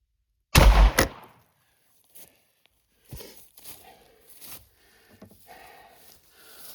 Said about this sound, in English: Shooting danger close, just literally 2 feet away.